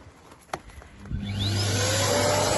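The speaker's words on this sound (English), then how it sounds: "Always keep clean, little hoover again." A small hoover starts up after a few knocks and clatters, then runs with a loud, steady whine and rising airflow as it vacuums out an oil-fired Grant boiler.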